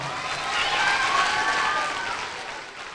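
Crowd applause in a State House ceremony honouring a group of young students, a steady, even clapping wash that rises slightly and then fades, with a voice faintly present beneath it.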